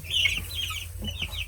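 Two-week-old meat chickens in a brooder give soft, high peeping chirps in a loose, overlapping scatter, close by against a low background hum.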